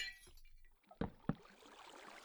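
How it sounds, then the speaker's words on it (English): Glass blocks break in a video game as two quick, faint, tinkling shatters close together, set against quiet background noise. "I just break a couple glass"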